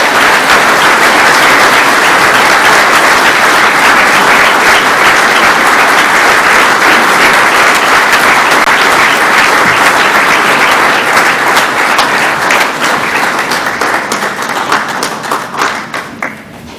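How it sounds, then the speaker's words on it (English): A large crowd at a Rural Water award gathering claps loudly and steadily in warm applause for an honoree, a dense sustained roar of hands that slowly thins out and fades near the end. "give Bob Ross a warm Rural Water applause"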